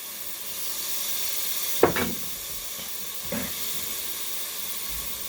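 Garlic and onion fry in oil in a pot for chili with a soft, steady sizzle and hiss, broken by a couple of clanks from stirring with a spoon.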